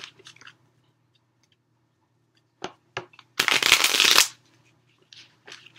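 A deck of stiff cards being shuffled close up, one loud, dense riffle lasting under a second, bracketed by a few quieter taps and handling clicks in an otherwise quiet room.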